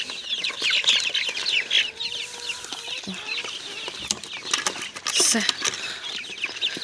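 Chickens and young chicks of mixed breeds cluck and peep softly nearby, with scattered pecking and rustling, while a person talks intermittently in the background.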